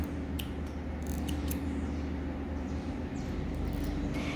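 Scissors snip embroidery thread during hand sewing of a felt toy, a few faint close snips over a steady low background hum, with no talking.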